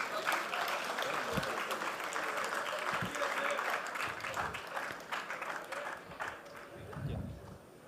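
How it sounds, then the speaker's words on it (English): Audience at Pune Startup Fest 2025 bursts into sustained, loud applause, dense clapping filling the hall for several seconds before thinning slightly toward the end, with some voices mixed in. "Let's give a huge round of applause for Praveen Pardeshi"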